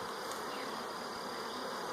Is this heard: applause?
no